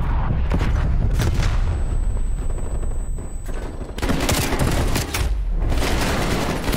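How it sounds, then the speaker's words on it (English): Incoming artillery strike in Call of Duty: Black Ops Cold War, a dense barrage of loud booms and rapid gunfire crackling continuously with heavy low rumble, no voices. "Artillery targeting active."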